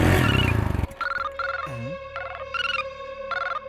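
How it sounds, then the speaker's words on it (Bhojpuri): A phone ringtone plays close and clear, repeating short melodic bursts after a loud engine noise cuts off. "रुका रुका फोन आवता।"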